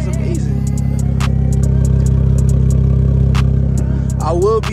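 An Infiniti Q50S with a straight pipe exhaust, muffler and resonator deleted and lower downpipes, gives off a steady, loud, low rumble throughout, with a few sharp clicks and brief noises over it.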